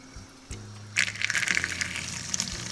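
Water from a tap gushes steadily over a lukewarm bag set under the stream to warm it, following a brief knock and continuing without pause.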